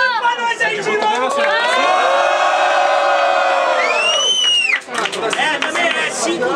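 Crowd at a student rap battle semi-final claps, cheers and whoops steadily throughout, with shouted voices and a siren-like rising whistle riding over the noise near the end.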